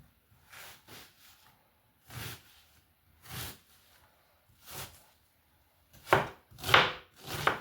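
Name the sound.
chopping onions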